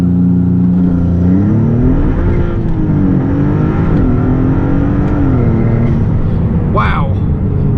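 A Maserati MC20 holds a loud, high-revving drone from the cabin, its pitch rising and dipping as it pulls hard under launch control, with a voice speaking briefly near the end.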